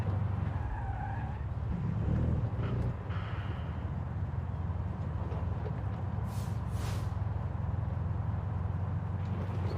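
Tire skid from a handbrake turn in a PC racing game, a brief squeal near the start over a steady engine drone, fairly faint, no talk.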